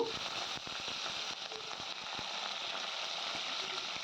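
Green chillies and chopped ginger fry in hot oil for mango pulihora, a steady close sizzle with scattered crackling pops throughout.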